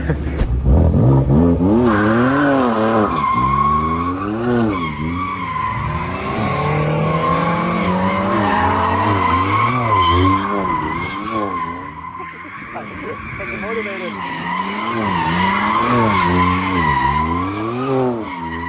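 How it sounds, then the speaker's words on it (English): A sports car does donuts with its engine revving in rising and falling waves while the tires squeal and skid continuously nearby, and people talk and shout over it. "let's go do your donut."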